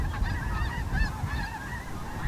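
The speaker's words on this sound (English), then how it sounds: "there were still geese left back on the lake" Geese honking over a lake in the wintering hills as a spring flock flies past, a dense chorus of overlapping calls that carries steadily at moderate volume without pause.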